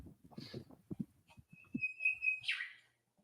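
A bird's clear whistling call rings out over a sailing voyage toward Fiji, one sustained pure tone and then a brief sweeping note, following low rumbling noises.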